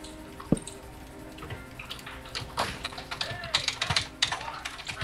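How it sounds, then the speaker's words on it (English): Computer keyboard typing in a classroom, heard as irregular light clicks and taps that grow busier toward the end, with faint voices and room noise around them. "except for Marie, who's still typing hers"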